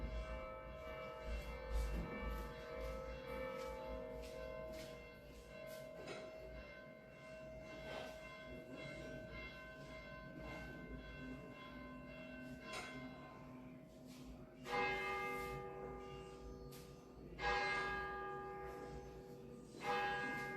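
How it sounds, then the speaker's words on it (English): Church bells ringing outdoors through open doors, repeated resonant strikes with long ringing tails that build into several louder peals, heard at moderate distance against low background rumble. "You are going to hear the bells."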